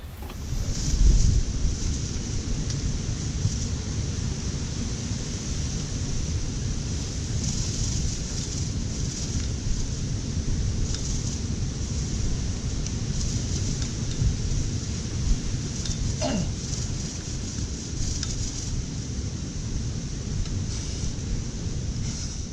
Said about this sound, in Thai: ลมแรงมาก หนาวแล้วก็มีหมอก